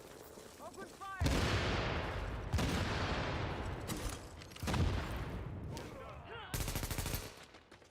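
Gunfire in the video game The Division, several loud bursts of rapid automatic fire separated by short pauses, with a voice talking faintly between the volleys.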